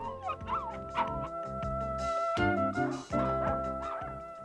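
Sapsal puppies on a farm whimper and yip in high, wavering cries, several overlapping in quick succession close by, with thin howling notes among them.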